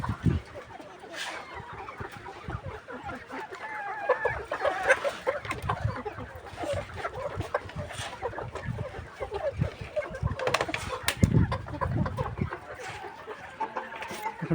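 A flock of farm chickens clucks busily while pecking at feed, overlapping calls near and far with occasional louder squawks and a rooster-like cry, continuous throughout.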